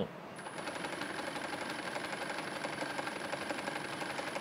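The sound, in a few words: Karysm step motor sewing machine stitching decorative pattern D1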